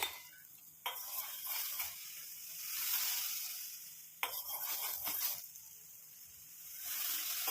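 A spoon stirs a thickening milk mixture in a pan on the stove, scraping and clinking now and then over a soft bubbling hiss that swells and fades, close and fairly quiet.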